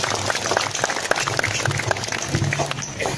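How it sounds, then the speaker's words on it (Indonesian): Dense clapping from a crowd at an Islamic religious talk, a steady patter of many hands throughout, with faint voices mixed underneath. "Tepuk tangan dong."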